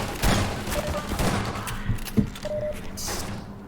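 Video game gunfire from Combine Elites in Half-Life 2 Episode 2, rapid bursts of automatic shots and thuds spread through the clip, with a person talking over much of the action.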